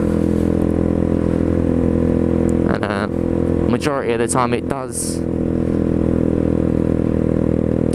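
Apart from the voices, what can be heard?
small 125cc motorcycle engine, loud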